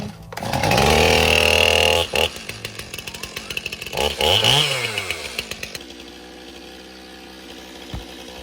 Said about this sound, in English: I'm going to have to take the chainsaw and cut these posts off